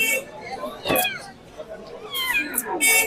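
A Persian cat at the Mirpur 1 pet market in Dhaka gives several close, rising and falling meows, with voices and market chatter around it.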